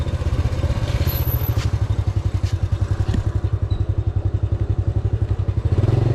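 A motorcycle rides over a rough road in Caloocan, its engine thumping in a steady rapid beat up close while the chassis clatters and thuds over bumps.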